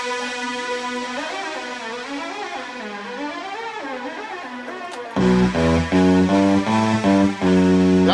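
A sampled tone on a Maschine Studio slides and wavers in pitch, bending up and down, then a punchy looped beat with chopped chords cuts in loudly.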